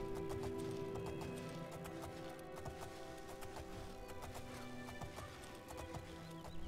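A horse gallops in the video game The Elder Scrolls IV: Oblivion, a rapid, regular clip-clop of hooves running steadily under droning game music and ambience, fairly faint, with no talk.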